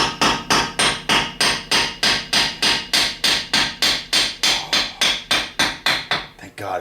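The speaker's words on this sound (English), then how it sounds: "sometimes I use a hammer instead of a puller" Hammer blows on a 2009 Mazda CV axle, about twenty loud, sharp metallic strikes in a steady, rapid rhythm, close up and with no talking.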